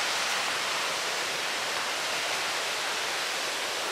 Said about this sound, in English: I wonder if we'll get closer to that waterfall over on the right side there.